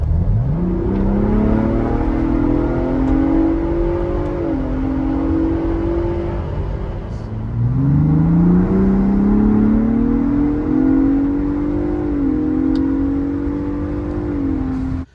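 Ford Bronco Raptor with an upgraded Cobb intercooler pulling hard from a 35 mph cruise, its engine note rising steadily in pitch through two gear changes, loud and close with a brief dip between pulls.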